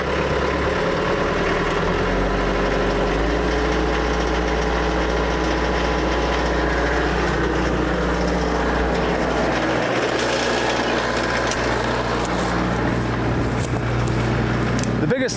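A tractor engine with a 540E PTO drives a wood chipper, a loud, continuous low-pitched drone and rumble holding steady throughout, close by.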